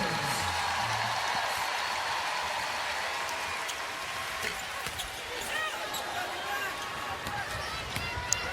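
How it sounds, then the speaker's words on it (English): A basketball crowd applauding and cheering as a player heads to the bench during an NCAA women's tournament game between South Dakota State and UConn, a steady broad roar of clapping under a commentator's voice. "She will head to the bench. Big hand from the crowd."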